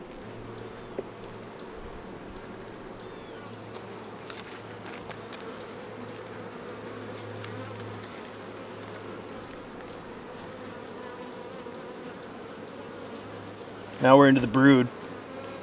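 Honey bees buzzing on an opened hive frame, a dense continuous drone close by with faint ticking, and someone speaking briefly near the end.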